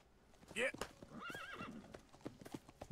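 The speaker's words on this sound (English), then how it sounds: "Yeah, let the horses go." Horses in the Red Dead Redemption video game whinny in a sharp, quavering neigh and then a longer one, over a steady clip-clop of hooves with someone talking alongside.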